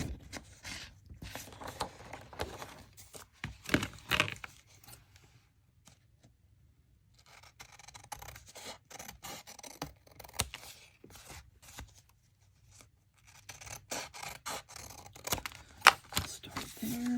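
Paper cigar box top pockets being trimmed down with scissors, giving soft, close snipping and crinkling in scattered bursts with quiet gaps.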